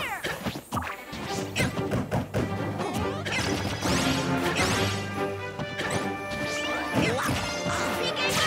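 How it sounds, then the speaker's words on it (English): Impact and smash effects from a Super Smash Bros match played as Lucas, loud hits and crashes layered over busy game music, with sharp strikes recurring throughout. "yeah, there it is, the up smash."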